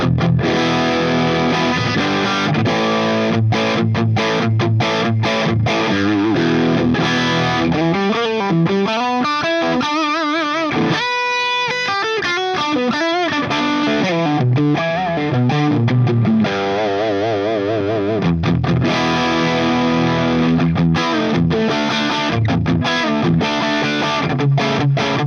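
Heavily distorted electric guitar through an MXR Distortion+ pedal playing riffs and sustained chords, loud and continuous, with fast picked runs in the middle.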